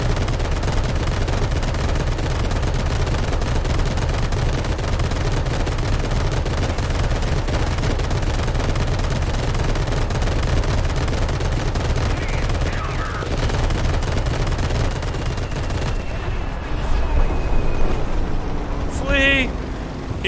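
Rapid machine gun and cannon fire rattles on without a break in War Thunder, loud and dense, with a person talking over it.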